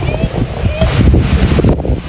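Steady gusty wind buffeting the microphone outdoors at Capas National Shrine, a loud continuous low rumble throughout with no clear talk.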